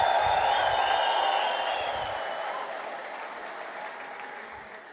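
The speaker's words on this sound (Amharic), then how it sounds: "አንድ እልልታ፣ ጭብጨባ፣ ምስጋና ታመጣለህ።" Church congregation clapping and ululating during a sermon, a dense wash of applause with high trilling ululation riding on top, strongest at first and then fading steadily.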